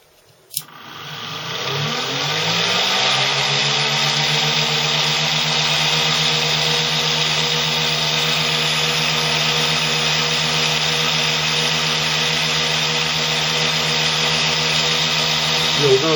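Electric motor in a six-pole, two-coil parallel arrangement starting with a click, then rapidly whining up to speed and holding a steady, loud hum with stable tones for the remainder.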